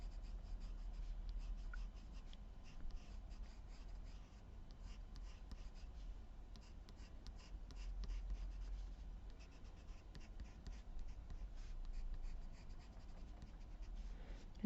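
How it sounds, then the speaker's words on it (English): Pencil shading lightly across card stock with a soft, continuous scratchy rub, faint and close, steady strokes with no talking over it. "I'm just going to add a little bit of shading."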